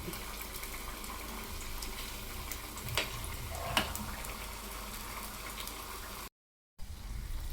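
Fenugreek seeds sizzle in hot frying ghee during homemade ghee preparation, a steady soft crackling hiss with faint ticks and stirring, broken once by a short silent gap.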